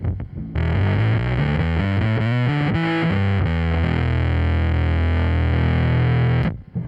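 A heavily driven electric guitar through a bass drive pedal with the tone knob pushed plays a run of changing notes, thick and loud, then sustains a held note before cutting off.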